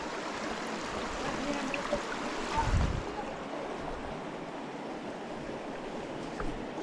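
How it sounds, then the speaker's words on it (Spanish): Broadband rushing river water at the meeting point of the Los Horcones and Quezalapa rivers in Mexico, a steady continuous wash with a brief stronger surge near the middle, heard close and alone. "Este es el río."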